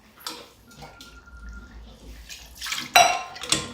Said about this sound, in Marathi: थोडं पाणी ॲड करायचं,